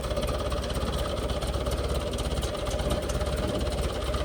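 A tractor engine idles steadily nearby, a constant low throbbing rumble with no pauses and no voices.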